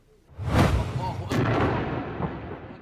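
A bomb explodes inside the 11th-century Imam Dur shrine in Iraq: a sudden heavy blast, then a second burst, followed by a long rolling rumble of collapse that slowly fades.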